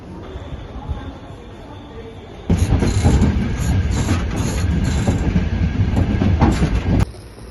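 A train rumbles past on rails in the snowy Carpathians near Slavske, starting abruptly and loudly after a quieter stretch, with rhythmic clatter, then cutting off near the end.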